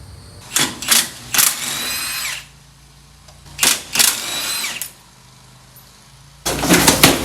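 Power tool bursts while the rear bumper comes off a Porsche 914 during a teardown, loud whirring spurts in several separate runs with pauses between them.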